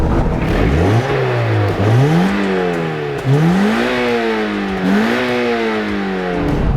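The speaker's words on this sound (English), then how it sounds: "modifying the mid-pipe with a really large Flowmaster resonator, so it sounds a little bit more beefy" A Mazda Miata NC engine with a large Flowmaster resonator in the mid-pipe revs repeatedly, its pitch climbing and dropping in several loud surges, with a deep, throaty tone throughout.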